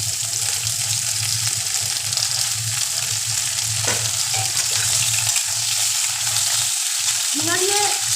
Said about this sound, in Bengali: এবার আমি এর মধ্যে ঝিঙাগুলো দিয়ে দিই